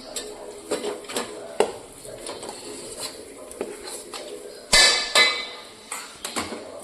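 Mashed potato being mixed in a pan with salt, giving irregular scraping and clinking of a utensil against metal, with a brighter cluster of clanks partway through, close and fairly quiet with no talk.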